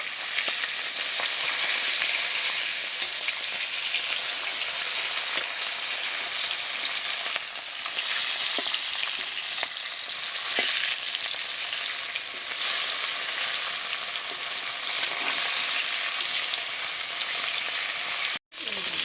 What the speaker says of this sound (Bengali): এবার মাছগুলো ভেজে নেব কড়াইতে তেল গরম হয়ে গেছে